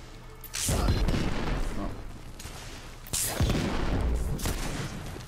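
Heavy gunfire in The Order: 1886 during a siege, two loud booming shots about two and a half seconds apart, each with a long rolling tail, and a brief spoken exclamation.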